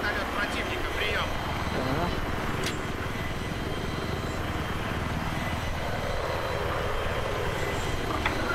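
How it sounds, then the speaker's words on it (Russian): Enemy helicopter in a multiplayer video game, a steady, loud drone of rotor and engine noise that carries on without a break while a voice talks over it. "Будьте на чеку, вижу вертолёт противника"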